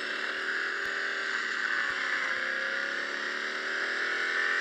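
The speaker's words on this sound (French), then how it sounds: "Ça, c'est un big block, hein, 427. Un moteur de 7 litres." A 1969 Chevrolet Stingray with a 427 big-block 7-litre V8 in the racing game Real Racing 3, a steady sustained engine drone at constant pitch, loud and continuous with faint clicks, no talk.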